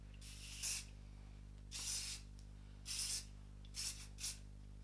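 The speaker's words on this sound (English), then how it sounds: "Final spray just to sort of lock that all in." Hairspray misted over curled hair in five short hissing bursts of a can, close and soft against a low steady hum.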